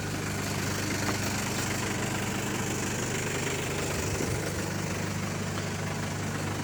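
A 2010 Mercedes C200 CDI W204 diesel engine runs steadily at low revs around 1200–1500 rpm, a loud continuous idling rumble with a slight knocking texture and no talking.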